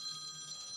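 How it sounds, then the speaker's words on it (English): Old-fashioned mechanical telephone bell ringtone playing from a modern phone, a steady bright metallic trill that rings continuously and fairly loudly with no pauses. "That's the sound of a phone that has a bell inside of it."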